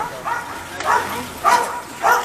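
A dog gives a few short barks and yips, spaced about half a second apart, fairly close and clear against a quiet background.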